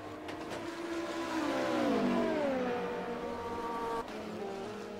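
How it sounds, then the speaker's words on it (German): A race car in a sim racing game at Okayama locks its brakes, and the tires squeal over a loud engine whose pitch sweeps down and then holds, cutting off abruptly near the end. "Und hier haben wir einen kleinen Verbremser gehabt, aber nichts passiert."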